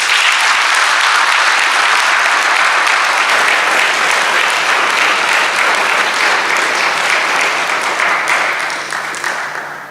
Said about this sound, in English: let's have another round of applause and congratulations for our graduates